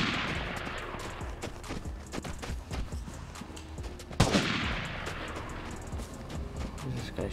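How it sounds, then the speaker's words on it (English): Gunfire in the multiplayer shooter Vigor on Xbox One, several scattered shots at mid distance with one louder nearby crack partway through, over a steady ambient background. "Where's this guy shooting at?"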